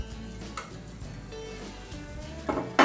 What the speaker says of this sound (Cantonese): 我哋再將頭先嘅蘿蔔放入去再煮，將佢撈勻佢